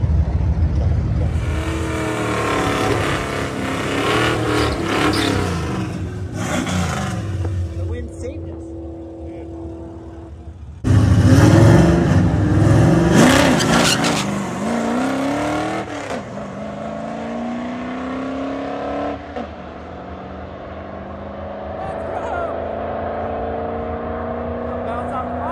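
A pair of BMW cars racing on the Bandimere Speedway drag strip, engines roaring and revving hard, swelling loudly mid-way as they launch and pass, with people talking over the noise.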